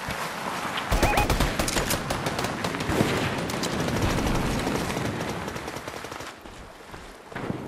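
Rapid, sustained automatic gunfire from a high-capacity gun in a video game, dense and loud from start to finish, with scattered distant shots and other game noise beneath, easing slightly near the end.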